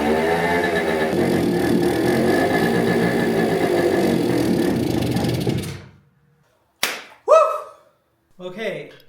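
A 1974 Kawasaki G5 100 two-stroke motorcycle engine running loud and close with a buzzy rattling idle for several seconds, then cutting out, followed by a few brief exclamations from a person.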